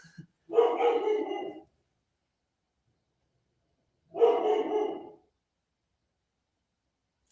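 A dog barks out an open window, heard from indoors as two separate bursts of rapid barking, each about a second long, with silence between them.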